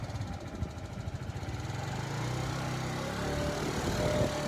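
Small TaoTao 50cc scooter engine with 410 miles on it runs steadily and close by, a buzzy low drone with a rapid pulsing beat that holds fairly even throughout.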